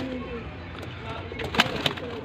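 Golden teddy pigeons, two pairs, coo softly amid a low background hum, with a couple of brief sharp knocks near the end.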